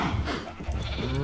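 Cows in a Minecraft farm pen give short, blocky moos and bleat-like calls, close and fairly loud, with several animals overlapping in quick succession.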